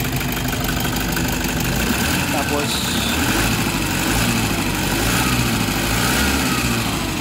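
A Toyota D4D diesel engine idles steadily and continuously with a rough, shaking run, heard close, with someone briefly speaking over it.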